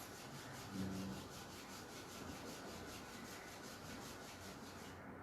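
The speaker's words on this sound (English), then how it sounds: "Release the hands and rub the palms." Palms rubbing together briskly during a yoga session, a close, steady dry swishing that runs continuously for several seconds with a regular back-and-forth rhythm.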